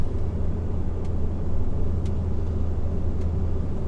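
A truck hauling a part load of timber holds 7th gear in manual mode, its engine a steady, loud, low rumbling drone with continuous road noise and no breaks.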